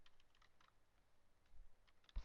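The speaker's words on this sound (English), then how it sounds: "You're really happy that I'm typing now" Keys clicking on a computer keyboard, faint and sparse, a few scattered light taps in a quiet room before a louder thump near the end.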